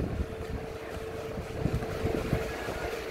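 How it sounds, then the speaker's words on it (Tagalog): Wind buffets loudly, rumbling and gusting in uneven bursts with a low roar underneath. "Lakas ng hangin."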